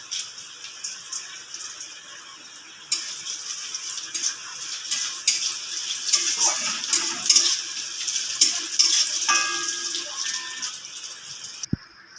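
Slit green chillies frying in oil for a prawn malai curry, a moderate crackling sizzle that jumps louder partway through, with spatula scrapes and clinks over it.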